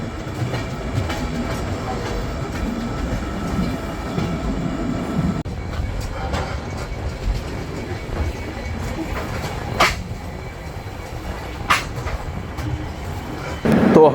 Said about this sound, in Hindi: तो हमारी ट्रेन डिब्रूगढ़ पहुंची है 10 मिनट बिफोर टाइम